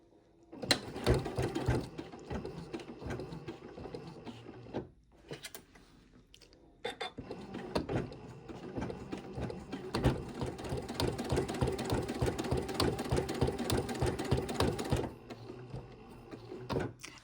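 A sewing machine runs a lock-in stitch on fabric, chattering in rapid mechanical bursts: a short run, a brief pause near five seconds, then a longer steady stretch before slowing to quiet near the end.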